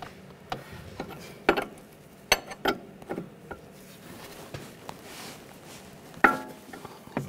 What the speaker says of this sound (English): using a 21 millimeter wrench or 13/16, loosen up the jam nut